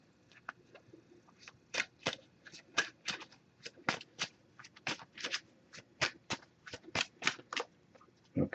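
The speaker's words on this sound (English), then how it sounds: "I'm just going to give this a few shuffles." A Messages of Oracle card deck is shuffled by hand, giving a steady run of crisp, close papery riffles and snaps in quick irregular bursts, with no talking.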